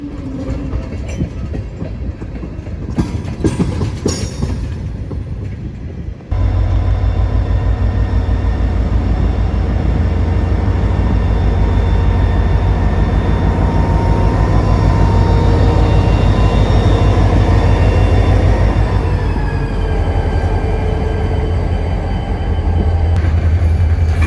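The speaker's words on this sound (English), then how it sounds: "Job 10 is pulling the empties out of the spur and is going to leave them on the main" A Florida East Coast freight train pulls a string of empty cars out of a spur onto the main line, its heavy low engine rumble and rolling wagons loud and steady after a quieter start, with faint clicking wheels throughout.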